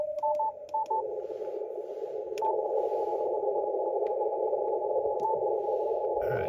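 CW Morse code signal received on a ham radio in the 30 meter band: a steady tone keyed in short dots and dashes, set against a continuous hiss of band noise, with no voices.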